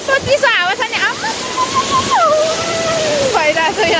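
Namaste waterfall in Bhedetar rushes and sprays as a constant broad hiss, heard close beneath excited voices of people talking throughout.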